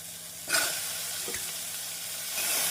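Tomato and drumsticks are sautéed with onion in a pan for a Tamil drumstick tamarind curry: a continuous hissing sizzle, close and fairly loud, with a sharp burst of spatter early on, a stirring scrape and a faint steady hum.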